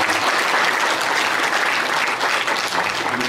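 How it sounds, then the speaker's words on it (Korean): A church congregation gives the choir a warm round of applause at a year-end Sunday service, steady dense clapping filling the room throughout at an even, loud level. "뜨겁게 박수 한번 해주세요."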